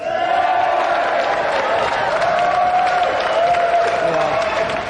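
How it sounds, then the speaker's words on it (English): A large TV studio audience applauds and cheers loudly and steadily throughout a game show prize award, a dense wash of clapping with whoops mixed in. "And a round of applause for the European Sega champion, Danny Curly!"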